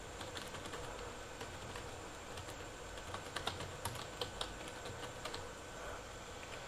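Quiet, steady typing on a computer keyboard, a soft run of clicking keystrokes with a few sharper taps midway, heard alone without talk.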